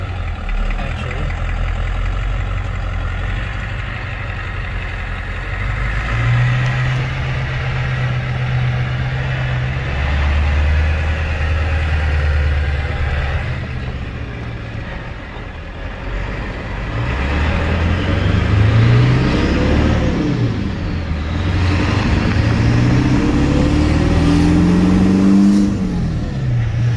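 A Ford diesel truck engine running on used automatic transmission fluid drones loudly and continuously, with engine pitch rising and falling as it accelerates and shifts through gears on the road.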